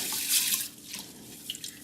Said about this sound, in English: So now we are going to drain our water.